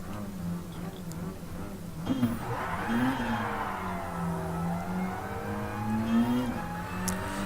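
Mazda RX7 rotary engine on hard racing tyres driving the Monza circuit in Gran Turismo VR, a steady droning hum that rises and falls through gear changes and revs, close and continuous throughout.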